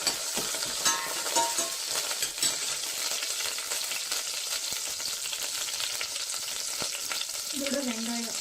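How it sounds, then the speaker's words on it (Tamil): Crushed garlic sautéing in hot oil in a pan as the base of a fish curry, with a steady bright sizzle throughout, a few scraping stirs, and no voices. "கொட்டி லைட்டாக வதக்கிக்கோங்க."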